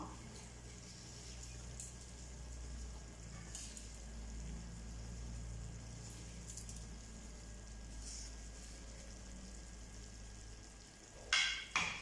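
Chicken frying in a pan for a Moroccan tagine with potatoes and olives, giving a steady, fairly quiet sizzle throughout, with a couple of brief utensil clatters near the end.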